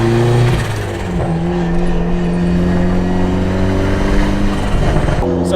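Steady car engine drone inside a moving vehicle on the road, loud and continuous with harmonic hum and slight pitch shifts as it accelerates, heading to a car wash during a manual transmission swap.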